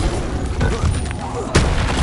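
A fire spell cast in the video game Hogwarts Legacy: a dense, loud whooshing burst that roars continuously, with a sharper blast near the end.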